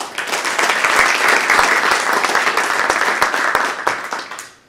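A round of applause from the audience at a technology incubator event in Uptown New York, a dense burst of clapping that stays loud and even, then fades out at the end.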